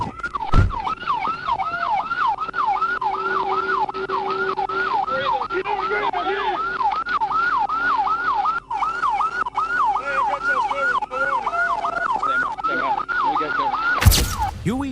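A police siren wails in a steady, repeating yelp cycle for most of the stretch during a high-speed chase through Monticello, loud and close, with a faint steady tone and background rumble beneath, ending in a sharp loud burst.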